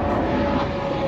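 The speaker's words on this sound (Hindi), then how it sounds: "ये हेलीकॉप्टर ऊपर फिरना शुरू हो गए हैं" Helicopters fly overhead, giving a steady, continuous droning hum with a faint tonal whine that holds through the brief moment, with no voices.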